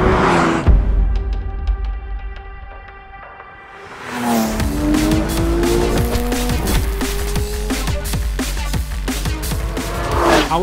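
A Porsche Cayman GT4 RS or 997 911 GT3 RS 4.0 engine revs up hard in third gear, its pitch climbing and shifting through gears, rising loud and close after a brief quieter lull.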